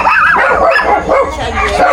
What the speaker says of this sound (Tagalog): Maingat yung aso namin kasi dumating kaibigan ng anak ko.